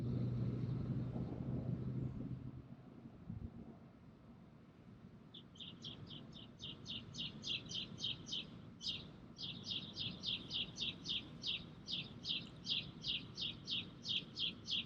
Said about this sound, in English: Now you can hear that bird you see perked up.